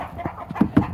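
Juvenile Americana chickens give a few short, soft clucks in quick succession, close by and fairly quiet over low background noise.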